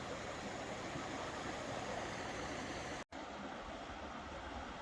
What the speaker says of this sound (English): With the water running.